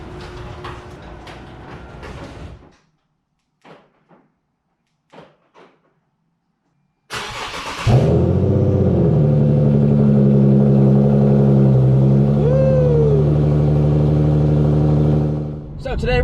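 An Infiniti Q50 car door opens and shuts with a few clicks and thumps, then the engine cranks, starts and settles into a loud, steady idle that rises as the car pulls away.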